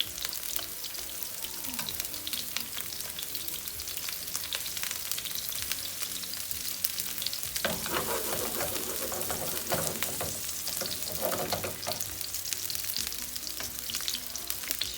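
Steady, loud sizzling of onions frying in hot oil for maqluba, a continuous crackling hiss with occasional stirring, no voices.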